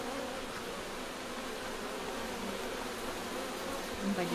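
Honeybees at an organic hive drone in a dense, steady buzz, close and continuous with no voices.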